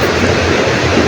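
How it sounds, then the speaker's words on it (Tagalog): Strong, dusty wind roars steadily across the microphone outdoors, a dense rushing noise with low buffeting, loud and unbroken throughout. "Sobrang hangin pa."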